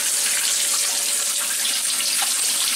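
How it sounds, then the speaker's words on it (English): Flood coolant drains and washes metal chips off a PM727M milling machine, a steady close hiss of splashing, running liquid with no pause. "you can see now it drains down really good, and it's going to just kind of wash all those chips down"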